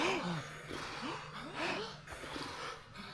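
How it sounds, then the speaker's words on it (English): Hope breathing, done close up as a forceful, fast inhale through a wide-open mouth followed by an exhale resisted through the lips, repeated in several quick breathy cycles. "you do forceful, fast inhale through wide open mouth, and then you exhale through a little bit resistant with your lips"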